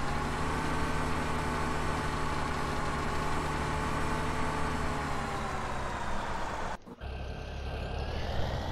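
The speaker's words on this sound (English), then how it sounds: "It's kind of funny how this tractor just stays running, but the combine shuts off instantly." A tractor engine idles in Farming Simulator 17, a steady droning hum with a constant tonal whine that runs throughout, briefly dipping near the end before carrying on, with no voices.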